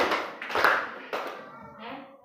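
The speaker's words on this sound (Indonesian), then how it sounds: "Tepuk 3 kali kalau mendengarkan Ibu." A class of schoolchildren claps in unison on a teacher's cue, a few sharp group claps in quick succession, close and moderately loud, with a voice briefly at the end.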